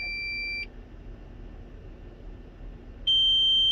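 A smoke detector with a low battery gives two short, piercing chirps about three seconds apart over a quiet indoor hum.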